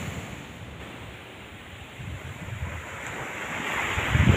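Ocean waves wash onto a sandy shore amid blowing wind, a rough rushing roar that swells louder toward the end, with wind buffeting the microphone.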